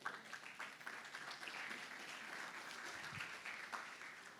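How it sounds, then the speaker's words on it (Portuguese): A church congregation claps together at a fairly low level, a continuous soft patter of many hands heard from a distance, with some faint scattered voices. "Aplauda o Senhor por isso."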